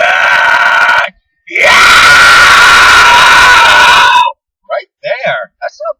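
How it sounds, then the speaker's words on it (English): A man attempts a harsh fry scream: a loud raspy held yell, a brief pause, then a longer strained gritty scream, ending with a few short voiced grunts. "The closest thing I've got to a fry scream kind of tickles a lot."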